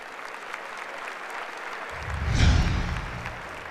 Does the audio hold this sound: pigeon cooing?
no